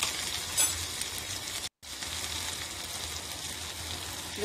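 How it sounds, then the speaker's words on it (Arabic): Tomato paste sautés with chicken in a pan, giving a steady, close crackling sizzle that cuts out for a moment and then picks up again. "عندي الدجاج راح أضيف معجون الطماطم. راح أحمسه أول شيء على جنب الحالة"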